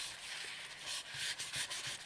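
A fingertip rubs ink over embossed plastic in a craft project. The soft, faint scrubbing strokes repeat in a quick, uneven rhythm, close by and quiet.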